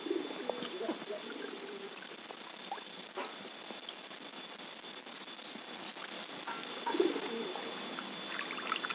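Soft pigeon coos sound intermittently against a steady background hiss, with faint rustling and a slightly louder coo near the end, as the pigeons are being bathed in the morning.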